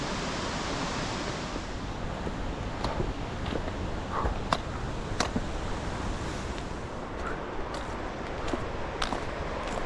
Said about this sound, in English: just wanted to give you a glimpse of the big waterfall